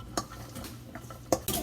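Chopped vegetables stirred in a skillet, with a few distinct scraping and clinking hits of a utensil against the pan over a quiet background; the pan is not yet hot enough to sizzle.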